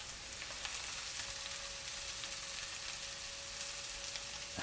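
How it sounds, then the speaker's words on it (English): Food sizzles in a frying pan with a steady, continuous crackling hiss close by, unbroken and with no talk. "That's the sizzle that you want to hear."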